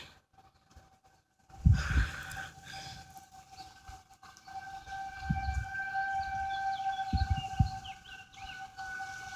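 An outdoor tornado warning siren sounds a steady wailing tone for a weekly test, with a few low thumps from wind or handling as it starts and continues in the background.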